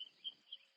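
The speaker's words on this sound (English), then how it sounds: "I can hear the birds chirping." A few faint, high chirps of birds spaced apart over a quiet, cloudy early-morning background at sunrise, like birds calling at a distance.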